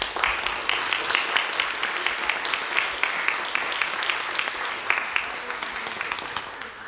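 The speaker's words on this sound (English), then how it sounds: "Let's give her a round of applause." Audience applause at a Queen's Park Day 2024 gathering, a sustained stretch of moderate clapping from a modest crowd, with individual claps standing out in a steady, even patter throughout.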